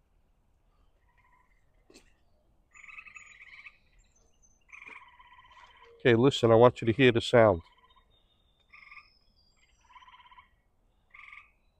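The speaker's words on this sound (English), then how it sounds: "The tree frogs are living in that wood pile and they're talking." Tree frogs call from a wood pile outdoors in repeated short trilling bursts at moderate distance, broken by pauses, while someone speaks loudly close by partway through.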